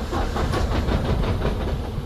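A heavy diesel engine in a Freightliner Cascadia truck with cylinder head valve problems cranks over weakly in a loud, rhythmic churning whir, close to the microphone, without catching.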